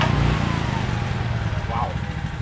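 A Honda EB6500X generator engine cranks and starts, rising into a loud steady running rumble that settles and continues close by.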